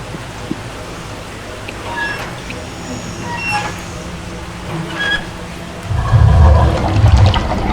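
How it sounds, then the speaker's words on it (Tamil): Water flowing through a drain in the video game A Way Out, a faint continuous trickle with scattered small clanks that swells into a louder rushing gush near the end. "Looks like that one stopped the water flow."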